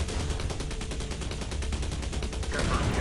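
Rapid gunfire in the military drone shooter Drone Shadow Strike, a steady rattling stream of evenly spaced shots that carries on for several seconds and then gives way to a rougher burst near the end.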